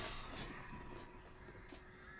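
Crows cawing in the video game Dead by Daylight, a few harsh caws rising over a steady game ambience, moderately loud and close, with no talking.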